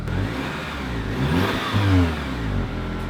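A four-cylinder turbocharged engine in a compact luxury crossover SUV revs up steadily, a mid-pitched whirring drone that swells in the middle and then settles, heard close and fairly loud.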